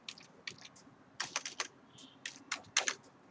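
Computer keyboard keys tapped in short quick clusters while entering a number into a spreadsheet cell, crisp close clicks with brief pauses between bursts.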